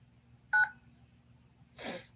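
A single short telephone keypad tone from pressing 9 on a phone menu, clear and brief, followed after a pause by a soft breathy noise; no speech.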